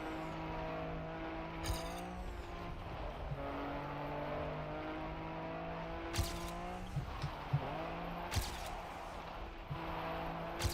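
Rally car in Trackmania drives with a steady engine drone whose pitch shifts up and down through gear changes and turns, quiet and continuous, with occasional brief clicks.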